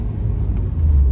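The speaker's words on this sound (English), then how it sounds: "I didn't get it on video, but the K20 started up." A Honda K20 engine idles steadily right after a pop start, a close, continuous low rumble with a slight swell toward the end and no talking.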